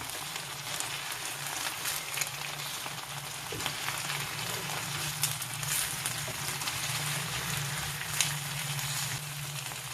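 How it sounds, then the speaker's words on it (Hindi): Fish pieces shallow frying in oil in a pan over a medium-to-low flame, an even, continuous crackling sizzle that holds steady for the whole stretch with occasional faint pops and no voices. "अब मीडियम टू स्लो फ्लेम के ऊपर फिश पीसेस को 5 मिनट एक साइड पे फ्राई करेंगे।"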